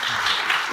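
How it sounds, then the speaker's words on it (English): A conference panel audience breaks into brief applause, a dense wash of many hands clapping at once, heard alone for under a second. "Now is when you clap."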